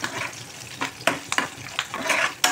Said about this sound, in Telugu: తాలింపు బాగా వేగనివ్వాలి